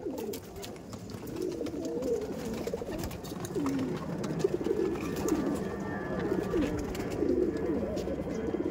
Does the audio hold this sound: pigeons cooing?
yes